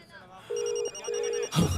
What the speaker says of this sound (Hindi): लगता अपना फोन भूल गया है।